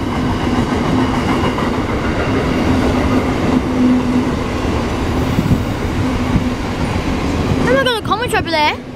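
Pacific National freight train rolling by close up, a sustained loud rumble with clattering wagon wheels, then high squealing wheels toward the end; a voice talks over it.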